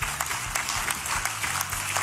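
Dense, steady applause from a large audience at a political gathering with Families USA, a continuous wash of clapping without any voices.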